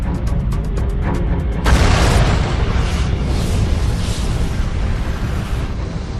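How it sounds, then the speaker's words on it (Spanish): A huge cosmic explosion in sound-effect form, a supernova gamma-ray burst: a sudden loud, broad roaring blast that erupts and then rumbles on steadily at full strength, following a run of short rhythmic pulses. "Se trata de la explosión más grande conocida en el universo."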